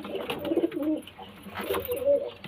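Several pigeons coo in a loft, two clear bursts of low throaty calls separated by a short lull, close and moderately loud.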